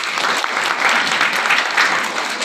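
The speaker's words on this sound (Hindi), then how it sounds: "इनके लिए ताली बजा दो, सीखे तो कर।" A Sunday church congregation claps for the teachers, sustained lively applause from many hands, close and loud, without a break.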